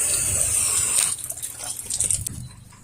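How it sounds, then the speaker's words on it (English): A pressure washer rinses a house at medium pressure after a house-wash treatment. A steady hiss of spray fades and breaks into uneven, splashy bursts of water hitting a surface. "Rinse with medium pressure."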